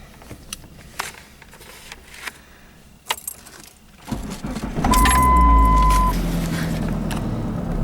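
A 2001 Plymouth Neon with a check engine light on is started: keys jangle and click in the ignition, then the starter cranks briefly and the engine catches and settles into a steady idle close by, with a faint whine.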